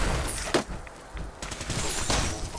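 Gunfire in the Fallout 4 video game, scattered shots and a brief fusillade cracking over a constant noisy game background, with a couple of sharper bursts standing out.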